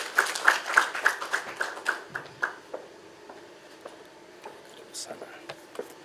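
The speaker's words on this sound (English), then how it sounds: "So let's applaud her as she comes to give her speech" An audience claps for a woman coming up to give a speech at a launch event. The clapping is rhythmic and fairly close, with steady beats that fade after a few seconds. Voices murmur underneath throughout.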